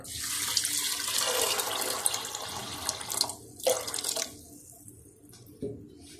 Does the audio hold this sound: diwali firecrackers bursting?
no